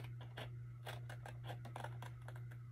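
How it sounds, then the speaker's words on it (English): Scissors slicing along a line on scrapbook paper toward a score mark for a pocketed folio, a series of close, crisp snips in a steady rhythm over a low constant hum. "So cut right along there."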